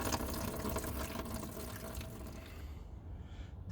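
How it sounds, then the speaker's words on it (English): Leftover washer fluid drains from the washer fluid tank of an Audi A3 8P during front bumper removal. A continuous, faint trickling splash runs throughout and thins toward the end, with no voices. "just drain what's left in the washer fluid tank"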